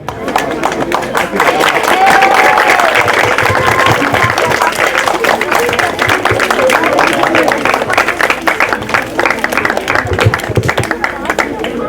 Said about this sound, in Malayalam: ഒന്ന് കൈയടിച്ചേക്കണേ